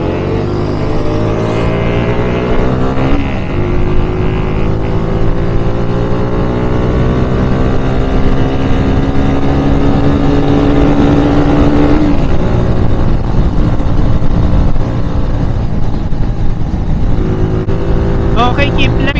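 Kawasaki W175 motorcycle pulling hard on an open-road test ride after repairs, engine note climbing through gears in rising sweeps, loud and close throughout with steady wind roar and occasional voice over it.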